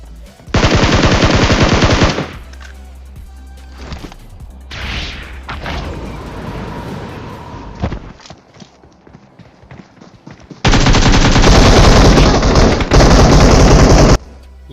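Rapid automatic gunfire from the battle royale video game BGMI comes in two loud, sustained bursts, one early and one near the end, with quieter game noise and scattered shots between them.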